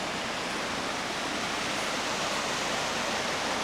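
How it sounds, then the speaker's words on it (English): Veitch Creek near Sooke runs in a steady, broad rush of flowing water, a constant close hiss with no breaks or voices. "beautiful running water, absolutely pristine here out in Sooke"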